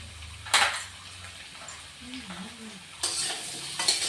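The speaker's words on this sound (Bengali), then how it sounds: "একটু আলুটা ভেজে নিব" Potatoes frying with turmeric in a pan for a Bengali mutton curry: bursts of close sizzling and stirring scrapes at the start and end, with a quieter stretch between where a faint voice briefly murmurs.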